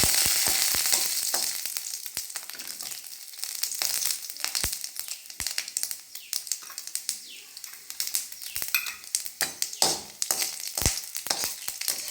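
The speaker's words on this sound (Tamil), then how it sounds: "எண்ணெய் சட்டி வச்சு அதில் தாளிக்க போகிறேன்" Steady hiss of spices frying in hot oil in a pan, with sharp crackles and pops scattered throughout, loud and close, no voices.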